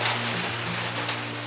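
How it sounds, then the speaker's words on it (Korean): Steady rain falls through a cypress forest, a dense broadband hiss of drops pattering on leaves, continuous and close, with a low constant hum underneath and no voices. "빗소리도 나고 그런데 뭔가 빗방울 막 떨어지는 그런 편백나무 숲에 누워있는 기분이에요"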